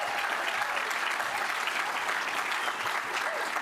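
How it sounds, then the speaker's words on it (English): A live audience at a startup accelerator showcase breaks into dense, sustained applause, steady and loud throughout with a hint of crowd noise mixed in. "you want to give them a huge round of applause and a whoop and a cheer"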